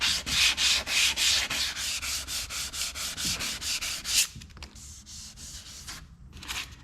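Sandpaper rubbing primer off a surface in steady back-and-forth strokes, loud and close for about four seconds, then quieter, intermittent scrubbing.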